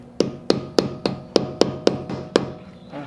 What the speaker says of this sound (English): And I'll use my rubber hammer.